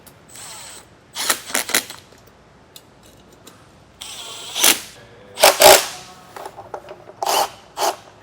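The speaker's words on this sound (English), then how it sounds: "So now we'll go ahead and tighten up our hardware. I got a 10mm socket." Ratchet with a 10mm socket snugging mud flap hardware on a 2023 Thor Magnitude motorhome, short clicking bursts in a few separate groups, close and fairly loud, no talking.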